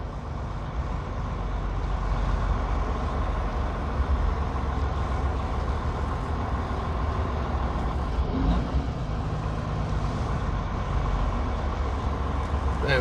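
A day cab truck rumbles with a steady, heavy low engine drone that stays loud and even throughout, with faint voices in the background.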